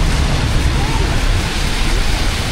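Steady rain falling on a city street in Makati, a dense even hiss close by, continuous and fairly loud with no talk.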